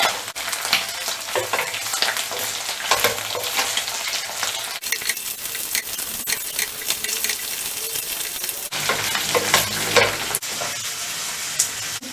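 Catfish pieces sizzle loudly in a frying pan for a Manipuri curry, the hot-oil crackle rising and falling as the pieces are turned over with a spatula, punctuated by scraping and light knocks.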